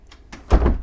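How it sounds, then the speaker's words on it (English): A sliding door inside a Keystone Avalanche luxury trailer glides along its track with faint rattles, ending in a soft, muffled thud as it closes, close by and brief. "what's quite neat with this is that they've put a sliding door there"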